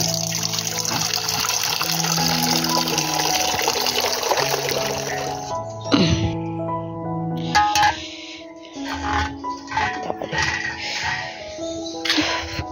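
Water pours from a tank into a container in a steady gush, then breaks into uneven splashes and trickles as the flow slows, close by with no talk.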